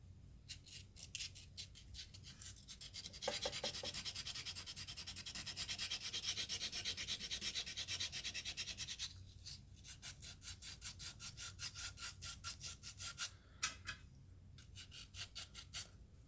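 Sandpaper rubs back and forth on a Mossberg 500 shotgun stock grip in quick, dry scratchy strokes, first a long continuous stretch, then a brief pause and a run of rapid short rasping passes, fairly quiet and close.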